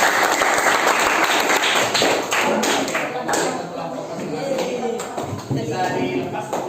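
Students in a classroom applaud together during a civics lesson, a loud, dense burst of clapping that thins into scattered taps, thumps and shuffling, with voices talking over it.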